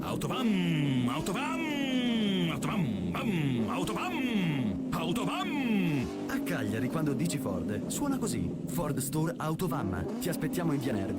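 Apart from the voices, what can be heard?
None of the usual background noises is heard.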